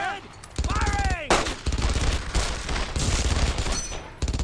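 Sustained gunfire in the Xbox war game Brothers in Arms: Earned in Blood, dense rapid bursts of rifle and machine-gun shots up close, with brief in-game shouting near the start.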